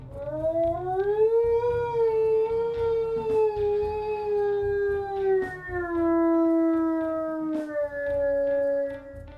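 Sustained wolf howls from the video game WolfQuest Wayfinders, a long wavering tone rising and gliding down, then a second howl settling lower, loud and close with no talk.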